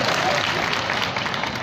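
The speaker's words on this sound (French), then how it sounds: "Applaudissez pour elle." Comedy show audience in Côte d'Ivoire applauding, a dense, steady wash of clapping that holds at even loudness for under two seconds, close and full.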